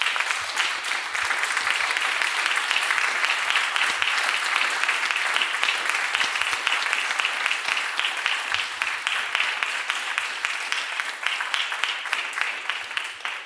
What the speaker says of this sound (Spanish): Os pido para todas ellas un fuertísimo aplauso.